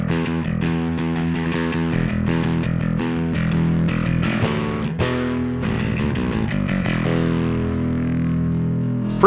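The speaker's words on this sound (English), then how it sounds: "Let's try that same setting, but I'm gonna throw some distortion on" A Dingwall John Taylor Signature bass guitar through a Darkglass Microtubes B7K Ultra distortion pedal plays a riff of punchy, gritty notes and chords, loud and upfront, ending on a sustained ringing note.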